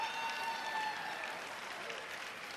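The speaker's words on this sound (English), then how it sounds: "You hear the Scots fans singing in the background." Scottish fans sing in a packed arena crowd at the Orleans Arena during a world men's curling championship bronze medal game against Korea, a faint, distant blend of voices and crowd noise with some clapping, steady over a few seconds.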